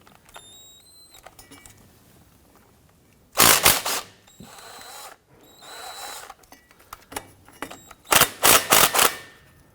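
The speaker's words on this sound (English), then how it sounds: "Now we're going to use an 11mm socket to loosen and remove these bolts" Tools work on 11mm driveshaft bolts of a 2006-2010 Hummer H3 3.7L: a few faint clicks, then two loud bursts of rapid ratcheting or buzzing spin, close up, with quiet pauses between.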